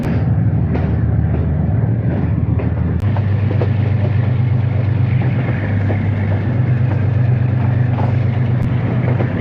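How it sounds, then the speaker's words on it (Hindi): Khushhal Khan Khattak Express running on the restored ML2 rail route, a steady loud rumble with a low droning hum and faint rhythmic clatter of the carriages throughout, no voices. "मैं खुशहाल खान कटक एक्सप्रेस पे सफ़र कर रहा हूँ"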